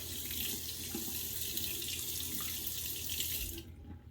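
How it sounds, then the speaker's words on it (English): Tap water runs steadily into a sink while a Henson razor is rinsed beneath the stream. The flow is fairly faint and cuts off sharply near the end. "It does rinse really easy."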